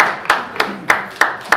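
Sharp, individual claps sound at a steady pace of roughly one every third of a second in a bar at a live jazz gig. Each clap stands out clearly over a continuous murmur of room noise.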